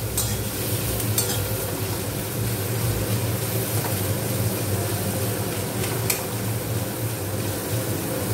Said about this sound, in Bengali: চিকেনটা পেঁয়াজের সাথেই ভাজা হবে।